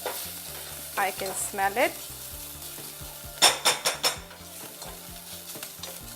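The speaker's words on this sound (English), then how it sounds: "Saute and cook the garlic for probably 30 seconds to a minute" Garlic sautés in butter in a pan with a steady, fairly quiet sizzle, with louder bursts of stirring and scraping around the pan. A few short spoken words come in over the cooking.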